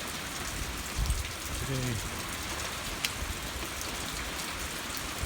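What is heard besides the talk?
light overnight rain falling, filling a tub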